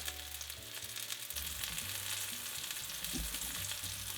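Chicken pieces brown in a hot pan for chicken marsala, a continuous close sizzle and crackle of fat with a low background hum and no voices.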